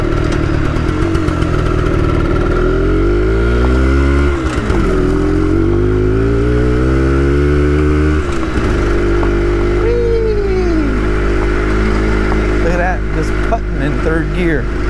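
An X90 motorbike pulls away in a very low first gear, its engine rising in pitch through repeated revving climbs between short gear breaks, loud and close as heard from the rider's position, with no talking.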